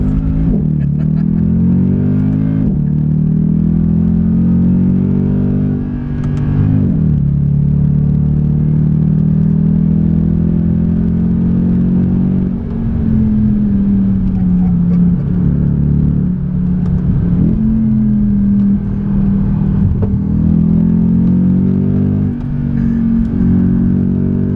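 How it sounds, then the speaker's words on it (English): A Mercedes C63 AMG Black Series tuned by Renntech drives on a slightly wet road. Its engine gives a loud, deep rumbling drone heard from inside the car, rising and falling with shifts and acceleration, with no talking. "so that you guys can hear this car, but also see it on the road and in action as well"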